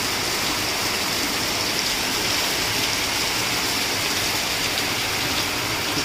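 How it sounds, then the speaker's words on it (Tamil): Heavy rain pours down steadily in a village near the Kadambur hills forest, a loud, dense, unbroken wash of noise with no voices. "பயங்கர மழைங்க"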